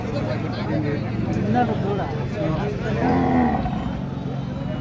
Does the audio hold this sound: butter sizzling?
no